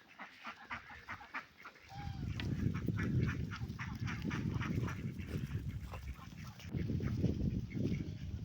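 Ducks kept by a poultry keeper call out near a pond on a cold, foggy, windy day, a few soft quacks at first, then a loud, dense chorus of honking quacks from several birds close by.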